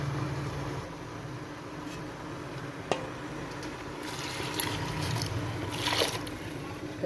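A glass of water splashes and trickles steadily into a pot of green bean keema, a continuous liquid pour with a sharp clink near the start of the pouring.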